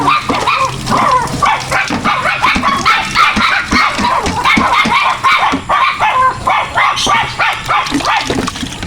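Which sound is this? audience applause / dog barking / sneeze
dog barking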